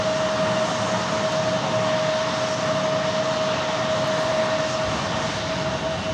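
A China Airlines jet arriving from Taipei at Sky Harbor Airport roars steadily and loudly throughout, a broad continuous engine rush with a sustained tonal whine running beneath it, no voices present.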